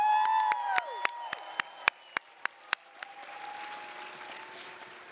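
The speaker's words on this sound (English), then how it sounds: "If you could help me, give them all a round of applause." Audience applause at a Yale College Class Day ceremony honoring the college heads and the dean, a broad wash of clapping that carries on steadily across the stretch, with a few sharp nearby claps standing out at a regular beat.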